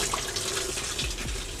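Really hot water from a power washer hisses and splashes in a continuous, close, fairly loud rush of spray across a surface with decals, with no talking.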